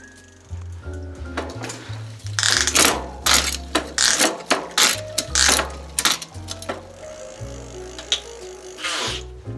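A bicycle pedaled forward on a work stand so the chain drops down, with rhythmic mechanical clicking and ratcheting from the chain and gears. Sharp repeated ticks run over a low whirring drone, close and loud, with no talk.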